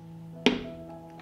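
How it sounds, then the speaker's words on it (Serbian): A cooking pot filled with beer, water and meat is set down on a stove with one short, solid thunk in a quiet kitchen. "Šerpu stavljam na šporet,"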